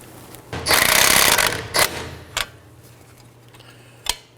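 An 18mm wrench tightening the nut on a front sway bar link of a 2018-2024 Chevrolet Equinox, giving a burst of close metallic ratcheting and scraping, then a few isolated clicks and taps.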